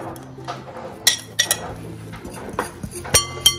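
Flour, sugar, salt and milk powder being mixed in a bowl: scattered clinks and taps of a spoon against the dish, light and irregular, with soft rubbing between the knocks.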